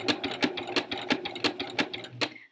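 A sewing machine stitches fabric in a steady, rapid run of close mechanical needle strokes, ending in a short stop; no talking.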